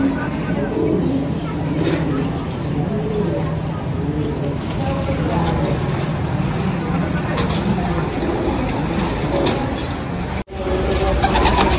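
Golden Kamagar pigeons coo in a low, continuous murmur, several birds layered close by, with steady background noise throughout.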